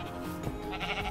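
A Minecraft sheep bleats in a short, fairly quiet game sound that rises over the background near the end, with no talking.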